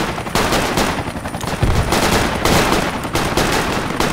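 Sustained automatic gunfire from the military shooter game Project Reality, rapid machine-gun bursts and overlapping shots filling the whole stretch at a loud, steady level with no talk.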